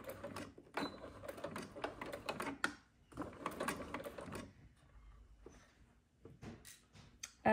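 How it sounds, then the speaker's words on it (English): A sewing machine stitches two pinned pieces of fabric in quick mechanical bursts, close up and fairly quiet, with short pauses between runs. "now I'm just going to start sewing"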